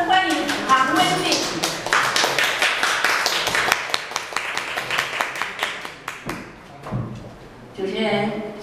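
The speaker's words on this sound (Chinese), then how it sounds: "让我们掌声欢迎" A group at a club gathering applauds to welcome the new club president, a dense burst of hand claps close by that thins toward the end as voices take over.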